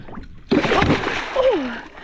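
A freshly caught fish released by hand from a boat splashes into the water with a sudden sharp slosh, followed by brief gurgling and a faint short vocal sound nearby.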